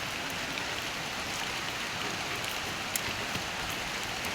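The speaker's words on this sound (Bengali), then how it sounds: "এই বৃষ্টিটাই প্রথম বৃষ্টি" Steady rain falls in an even hiss with a few brief droplet ticks, continuous and close, no voices.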